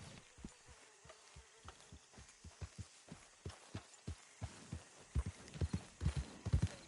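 Horse hooves in Red Dead Redemption 2 clip-clop in a steady rhythm, close and fairly quiet, speeding up and growing heavier toward the end.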